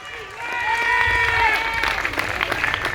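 Audience applause for a Miss Robinson contestant at the Fête des Guinguettes, a loud continuous wash of clapping under a presenter's amplified voice and music tones.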